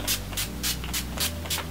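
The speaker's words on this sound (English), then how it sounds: "We're going to be setting our face with the NYX finish, the matte finish right here in this bottle. We're just going to spray that all over." NYX matte finish setting spray misted over a face in several quick bursts, about six short airy hisses spaced roughly evenly, close and fairly quiet.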